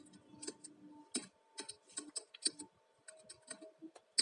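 Quick bursts of keystrokes on a computer keyboard, close and fairly quiet, arriving in short uneven clusters with brief pauses between them.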